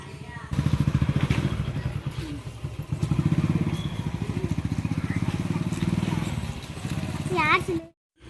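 A motorcycle engine putters steadily with a rhythmic throb as it rides along a rural road in Tamil Nadu, briefly revving near the end before cutting out; faint voices underneath.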